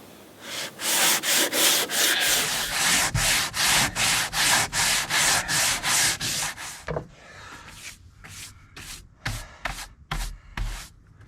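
Rhythmic sanding strokes on a boat hull being prepared for paint, a steady run of loud, even back-and-forth rubs that later turns into shorter, sparser strokes.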